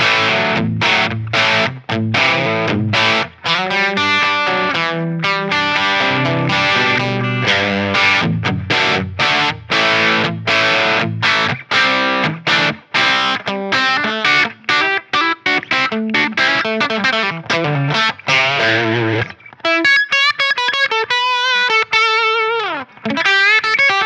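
Heavily distorted electric guitar on the bridge pickup, played through a Line 6 Helix Cali Rectifire model of a Mesa/Boogie Dual Rectifier amp, chugs loud, dense palm-muted riffs with choppy stops, then ends on ringing, bending lead notes.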